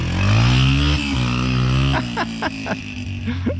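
A Yamaha TT-R125 dirt bike that sat unused for years idles loudly up close, then blips through several quick throttle revs with a rising, buzzing engine note.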